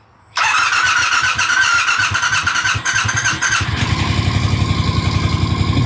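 A bobber motorcycle engine fitted with twin turbos restricting the exhaust cranks and fires up, then idles with a muffled, choked exhaust, a rapid low thudding that settles into an even putter.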